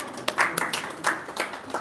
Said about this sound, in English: One round of applause to Mataji